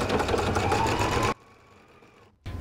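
A sewing machine runs fast and steady while chain piecing quilt fabric, stopping abruptly partway through, then briefly starting again; close and loud, with no talking.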